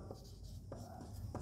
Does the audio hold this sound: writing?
yes